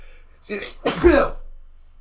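A single sharp sneeze bursts out after a short inhaled buildup, close and loud, then quiet.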